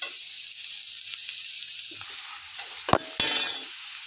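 Spices, raisins and nuts fry in a pan with a close, steady sizzling hiss while a spoon stirs, adding a few scraping knocks near the end, with no talking.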